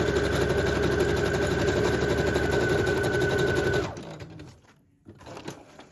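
A sewing machine stitches through a paper junk journal signature, a fast, steady mechanical whirr running for about four seconds before stopping, followed by faint handling noises.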